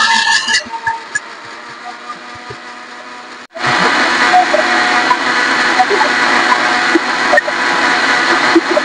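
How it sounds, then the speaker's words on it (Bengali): A mixer grinder grinds spices with a little water into a paste, first a quieter stretch, then a sudden loud, steady motor roar with a whirring blade churning continuously for several seconds. "ঢাকাটা বন্ধ করে দেব, মশলাগুলোকে বেটে নেব।"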